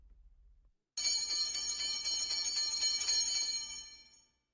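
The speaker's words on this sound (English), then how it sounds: "the school bell is ringing" A school bell rings at 8:30 a.m., starting abruptly after a brief low rumble as a bright, continuous metallic ringing that holds steady for about three seconds and then cuts off, with no talk.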